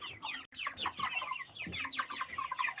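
Young broiler chickens cluck and chirp continuously on sawdust bedding in a brooder, a busy overlapping chatter of many birds close by, with no voices.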